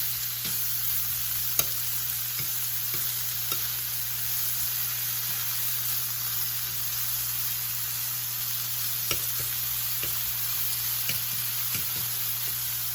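Steady crackling sizzle of frying food in a pan, continuous and close, with a few faint clicks and a low hum underneath.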